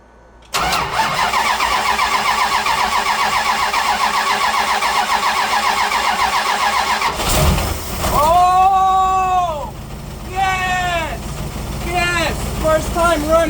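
A 1977 Dodge engine cranks with a long, steady rhythmic churning from the starter, then catches and fires, revving up loudly in several rising bursts before settling; close and loud.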